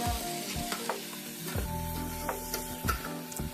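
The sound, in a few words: mint leaves sizzling as they are sautéed in a pan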